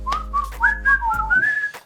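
A person whistles a short wavering tune alone for about two seconds, the notes sliding up and down with a steady low hum underneath.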